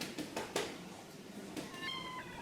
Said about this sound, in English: you can maybe hear a cat meowing.